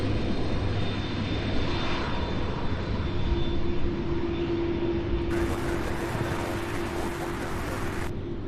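A jet airliner rumbles steadily while taxiing after landing at Louisville International Airport, heard from a distance as a constant engine roar with a whining tone, no talk.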